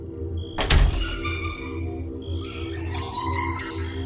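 A door swings shut with a single solid thunk near the start, followed by a quiet room where faint insect-like chirps and a low hum continue.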